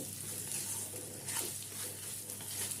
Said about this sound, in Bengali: পরিমাণ মতো হলুদ গুঁড়ো দিয়ে ভালো করে নেড়ে একটু ভেজে নেব